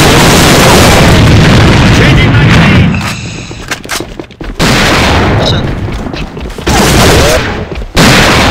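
A grenade in a multiplayer shooter game detonates with a loud, close blast, followed by further heavy explosions and bursts of gunfire, with voices shouting between them.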